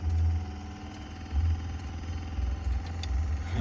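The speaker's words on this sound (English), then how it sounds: "We get the fan to turn on the motor. That fan pushes air." Steady low electric whir from the heater fan motor of a 1948 Rolls-Royce Silver Wraith, running continuously with a faint rhythmic flutter and swelling slightly in places, close and moderately loud with no voices.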